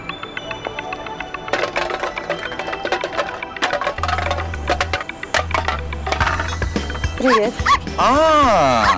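A small dog barks and yips repeatedly, close and loud, among the sounds of a Russian film scene with music and voices, ending in a whimpering, wavering cry.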